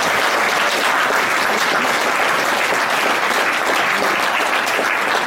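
A crowd at a French public campaign meeting applauds a candidate, with dense, steady clapping that fills the room evenly and loudly from start to finish.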